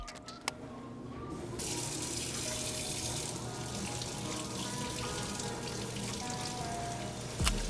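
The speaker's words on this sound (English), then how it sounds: "I'm gonna go to the sink and rinse out all this coffee." Running water pours from a sink tap onto sneaker midsoles to rinse coffee out of them, a steady close gush that carries on for several seconds, with a faint clunk at the start and at the end.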